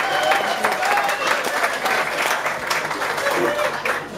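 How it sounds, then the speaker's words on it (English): Loud, sustained applause from the crowd at the Concert For Karl at Dag Sheep Station, Nundle, with close, busy clapping and voices chattering and calling out among the audience. "give him a round of applause."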